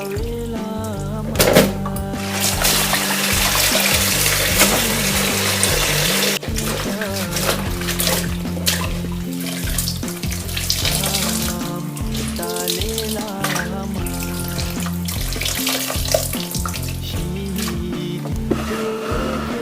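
Tap water runs loudly and continuously into a sink while kimchi ingredients are washed, with splashing and squishing under background music.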